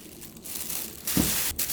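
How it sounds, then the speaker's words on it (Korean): Drained, starch-rinsed sweet potato pieces go into a plastic bag, making a few close, quiet crinkles and rustles, with a sharper crumpling burst near the end. "비닐팩에 넣어주세요."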